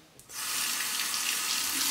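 A bathroom tap turns on and runs in a steady, close stream while a razor is rinsed during a wet shave with a Merkur 20B, continuing without a break and with no voices.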